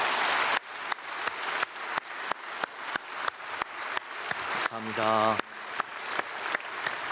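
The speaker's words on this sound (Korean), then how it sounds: "우리 크게 박수로 환영하겠습니다" A church congregation at a Sunday worship service welcomes newly registered members with applause that settles into a steady, rhythmic beat, each clap ringing with room echo. Someone speaks briefly partway through.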